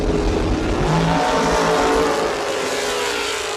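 A Chevelle and a dragster launch side by side at a drag strip, loud continuous engine roar and rumble holding steady, then easing slightly as the cars pull away.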